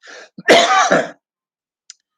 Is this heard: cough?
yes